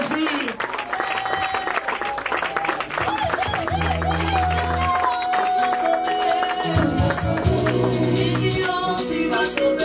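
A church congregation applauds and cheers for a preacher, a continuous loud wash of clapping and crowd noise with music and a sung voice running through it.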